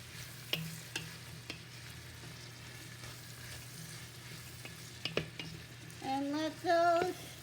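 Chopped vegetables hit a hot pot for chicken vegetable stock, with a few sharp utensil knocks, a low sizzle underneath, and a burst of stirring scrapes near the end.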